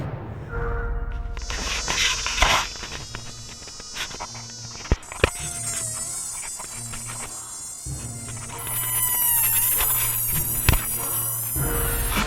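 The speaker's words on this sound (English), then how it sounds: "there's so many bugs and spiders that I don't want them in my mouth" Dense swarms of bugs buzz and whine close around the listener in the northern British Columbia bush, a continuous high insect drone with individual fly-bys passing near.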